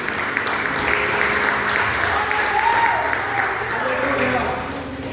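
A church congregation claps in praise during an evening prophetic service, a steady even wash of applause throughout, with faint voices and cries mixed underneath.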